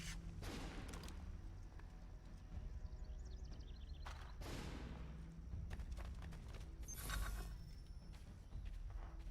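Several gunshots crack out in a battle scene from The Last of the Mohicans. The sharp reports are spaced irregularly, with a couple of heavier bursts, over a dense rumbling background of commotion.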